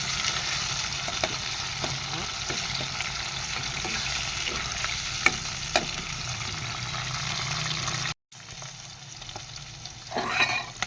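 Meat sizzles steadily in a hot pan while adobong talong is being cooked, a close, constant frying hiss with a few faint clicks and a brief break near the end.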